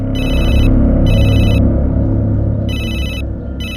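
A telephone rings in repeated electronic bursts over a steady low rumble, loud and close, with short pauses between rings.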